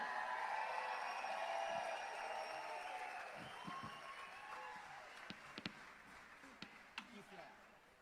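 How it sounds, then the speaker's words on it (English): An audience applauds at a memorial service for a conjunto and Tejano musician, fairly faint and distant, fading into scattered claps and a few sharp knocks as voices carry over it. "And a round of applause for Mr."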